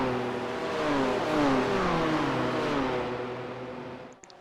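A BMW M2 race car in a racing video game revs hard, its engine note sweeping up and down through gear changes in rising, whining arcs, loud and alone, then cutting off abruptly at the end.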